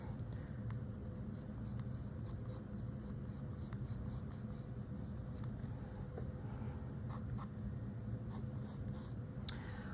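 Charcoal scratching across paper while shading in shadows, a steady dry rasp of short repeated strokes running continuously, close and fairly quiet, with no voices.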